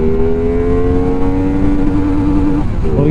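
A CF Moto 450 SR motorcycle pulls hard in second gear around 7500 rpm. The engine holds a loud, steady, rising whine up close, then dips briefly near the end.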